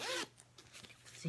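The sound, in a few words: zipper on a Betsey Johnson bag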